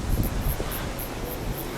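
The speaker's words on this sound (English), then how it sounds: "And very, very windy it was too, even on this relatively calm day." Wind at the Bluff lookout, the extreme south of New Zealand, rushes steadily past, a constant low roar with gusty buffeting near the microphone, alone without any talking.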